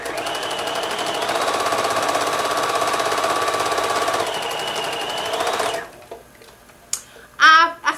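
A sewing machine with a built-in walking foot stitches a quilt in a steady, fast mechanical whir for about six seconds, then stops, leaving a few faint handling sounds.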